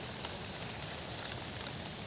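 Steady rain falls through a forest during morning mushroom picking, a dense even hiss of drops on leaves and ground that continues unbroken and fairly soft throughout, with no voices.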